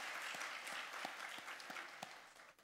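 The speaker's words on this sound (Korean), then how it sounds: "우리 다시 한번 할렐루야 성가대를 위해서 우리 박수로 축복해 주시기 바랍니다" Audience in a church clapping for a choir, a dense, continuous patter of many hands at moderate distance, with a few louder claps standing out.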